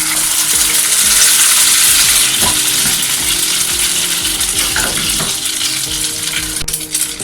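Egg-dipped sweet bread fries in a hot pan with a loud, steady sizzle and crackle throughout, plus a few faint scrapes and clinks near the end.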